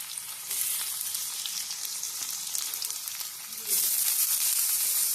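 Carrots and beans stir-fry in hot oil in a kadai for vegetable Maggi noodles, a bright, steady sizzle that swells suddenly louder near the end, with faint stirring underneath.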